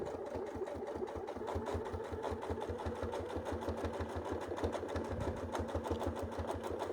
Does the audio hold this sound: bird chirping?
no